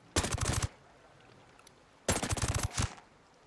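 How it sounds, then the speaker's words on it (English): Suppressed sniper rifle fire in the video game Ghost Recon Breakpoint during a night raid. Two short bursts of rapid cracking shots are separated by a quiet gap, with no talk over them. "Good shots. Little far."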